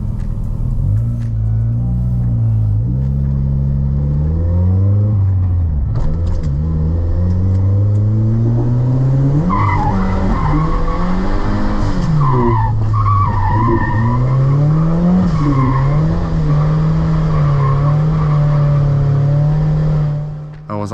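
A turbo Miata on slick 14-inch tires drifts through a lap, its engine revving hard and rising and falling continuously while tires skid and squeal loudly, up close throughout.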